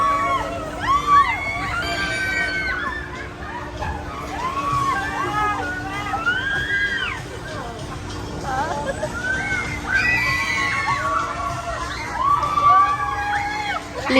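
A crowd screams and shrieks in bursts on an amusement ride at SkyRanch Baguio over a steady mechanical hum, with overlapping voices and excited shouting rising and falling throughout.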